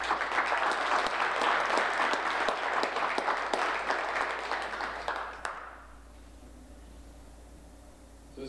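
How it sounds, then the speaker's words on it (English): Attendees at a Veterans Day ceremony in Lawrence give a firm round of applause that holds for about five seconds, then cuts off abruptly into quiet room tone. "a round of applause for Sergeant Major Rowan"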